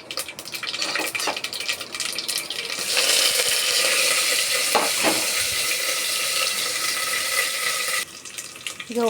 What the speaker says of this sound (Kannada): ಇದಕ್ಕೆ ನಾವು ಸ್ವಲ್ಪ ಸಾಸಿವೆ, ಕರಿಬೇವು, ಬೆಳ್ಳುಳ್ಳಿ ಜಜ್ಜಿರೋದು, ಈರುಳ್ಳಿ ಉದ್ದುದ್ದ ಕಟ್ ಮಾಡಿರೋದು,